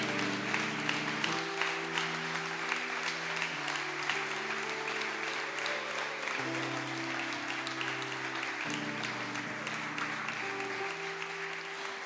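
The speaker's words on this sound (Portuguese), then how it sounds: "E toda a igreja aplauda bem forte o nome do Senhor nessa noite" Loud, sustained applause from a church congregation at an evening family service, continuous clapping throughout with organ or keyboard chords held underneath.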